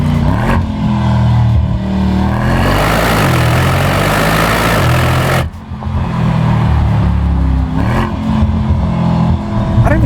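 A Mercedes-AMG GT63 S 4-Door with its 4-liter engine revving hard, a loud deep roar rising and falling through several throttle blips, briefly dipping before climbing again, close and dominant with no talk.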